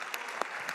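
A short burst of audience clapping at a church gathering, the crowd applauding dolphins, with a few sharper individual claps standing out from the broad wash.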